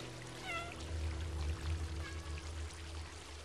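Cat in the video game Stray meowing twice, short rising cries over a steady low hum and trickling water, fairly close and clear.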